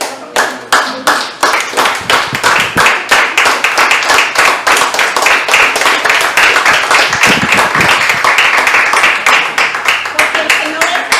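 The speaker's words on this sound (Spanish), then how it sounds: "Vamos a darle un aplauso al Señor" Church congregation clapping together during a Spanish-language sermon, a loud crowd of hands that starts as separate claps and builds into dense, steady applause, with a voice speaking over it.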